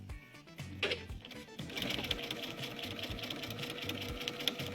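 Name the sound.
sewing machine stitching quilt-as-you-go border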